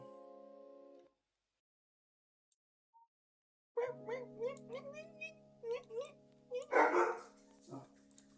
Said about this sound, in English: This neighbor's dog is so annoying.